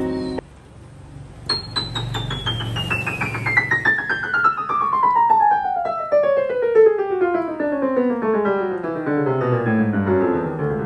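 A Casio PX-1200GP digital piano plays a bright, ringing run that sweeps steadily downward from high to low, its sustained notes overlapping and sounding clear and close with no talking.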